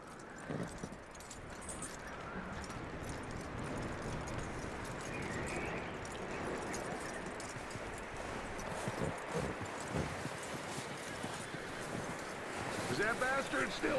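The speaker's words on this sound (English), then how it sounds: "That looks like a decent horse. You should keep him." Horse hooves clip-clop steadily across the ground in Red Dead Redemption 2, a continuous trotting rhythm over wind and outdoor game ambience, with no voices audible.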